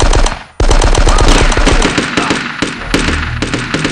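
Sustained machine-gun bursts in the Die Hard: Nakatomi Plaza shooter game, rapid loud cracks with short pauses between volleys, close and dominant.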